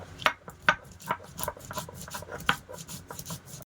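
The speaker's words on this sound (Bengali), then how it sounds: "শিলের উপরে জিরে আর মরিচ এবার একসাথে বেটে নেব" Cumin and chilli are ground together on a stone grinding slab in a rural Bengali kitchen, a close, rhythmic rasping rub with repeated strokes and occasional sharper scrapes.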